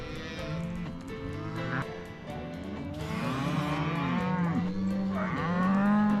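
Cattle, cows and calves moo on a ranch, several overlapping drawn-out calls near and far, with a faint bleat mixed into the herd noise.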